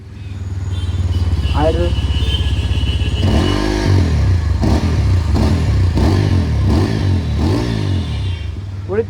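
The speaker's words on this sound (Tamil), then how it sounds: "வழக்கம் போல் எக்ஸாஸ்ட் நோட் செக் போட்டு பண்ணிடலாமா?" A 2025 TVS Apache 200 4V motorcycle idles with a deep, steady exhaust pulse, then is revved in about six rising and falling blips, loud and close, while a voice speaks briefly.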